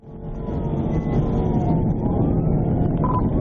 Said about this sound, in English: Lights and sirens come on immediately